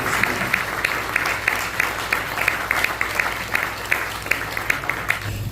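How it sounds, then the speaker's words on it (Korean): Church congregation applauding during a Korean Presbyterian retirement and installation thanksgiving service, steady crowd clapping with sharp individual claps standing out, moderately loud and continuous throughout. "다시 한번 뜨겁게 박수하고 하겠습니다."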